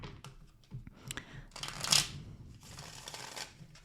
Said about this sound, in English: For some reason, I want to give this another shuffle to clear the energy.